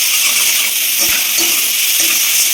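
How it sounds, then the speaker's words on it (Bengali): Bitter gourd slices sprinkled with salt and turmeric fry loudly in a pan, a dense steady sizzle and hiss throughout with faint stirring scrapes underneath, close and alone. "এখন এগুলোকে ভালো করে নাড়তে হবে"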